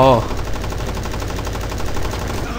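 Rapid automatic gunfire in the video game BlackFire rattles steadily for a couple of seconds, just after a brief voice at the start.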